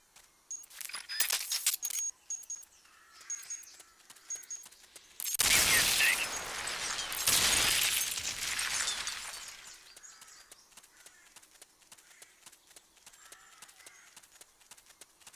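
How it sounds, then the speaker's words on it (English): A planted charge detonates in Metal Gear Solid: Peace Walker, giving two loud bursts of crashing, shattering debris in quick succession. Scattered clicks and rattles come before the blasts, and quieter clatter follows them. "Once the charge is planted, press the attack button without aiming to detonate it"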